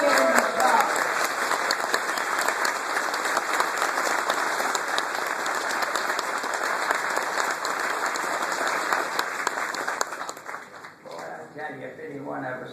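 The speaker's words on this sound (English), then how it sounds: "Let's give him a applause." Sustained applause for aviator Bob Hoover at a Super Sabre Society gathering, a dense steady roar of many hands clapping that thins and fades toward the end.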